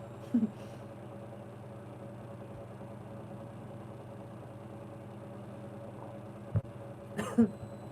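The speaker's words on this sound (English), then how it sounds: "I've had the worst cough for like 2 days." A few short coughs, one near the start and a pair close to the end, break through a steady low hum like an idling engine.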